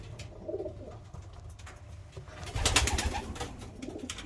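A pigeon coos softly nearby in low murmuring notes, with a few clicks and brief rustling, loudest toward the end.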